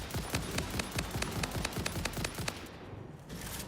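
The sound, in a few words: gunshots from a weapon in the video game Satisfactory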